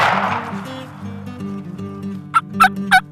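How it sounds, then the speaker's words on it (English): Wild turkey gobblers gobble in spring breeding season, three sharp rattling bursts arriving in quick succession near the end over a low steady background hum. "the reason why the gobblers are responding, it's springtime is breeding season for the turkeys"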